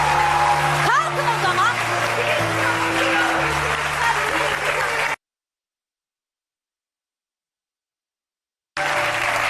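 A studio audience claps on a Turkish television talk show, steady dense applause filling the first half while voices and music carry on beneath, then cutting out to silence before returning.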